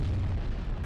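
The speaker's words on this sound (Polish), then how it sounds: "Wybuch." An explosion in a Skibidi Toilet animation: a loud, deep, rumbling boom filling the whole short moment, heavy at the low end, with no talk over it.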